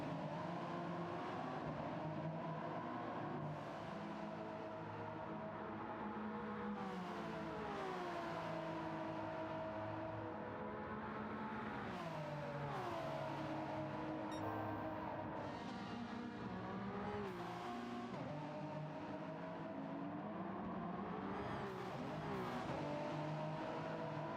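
Race cars roar through Monza in a racing video game, engines revving and shifting through gears continuously at high volume, with pitch sweeps as they brake and accelerate through corners.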